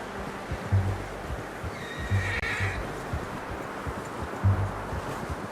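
A horse in Red Dead Redemption 2 snorts and whinnies several times at close range, with hooves clip-clopping and soft outdoor wind and rustling underneath.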